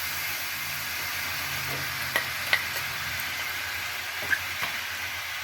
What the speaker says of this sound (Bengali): এবার আমি আমের রসটা দিয়ে দিচ্ছি। এইভাবে আমের যে পুরো জলটা আছে আমি পুরো জলটাই মেরে নেব।